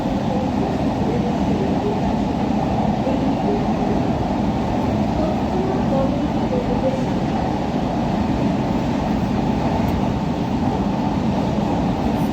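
An elevated Purple Line metro train runs from Majerhat to Joka, giving a loud, unbroken rumble of wheels and carriage noise heard steadily from on board.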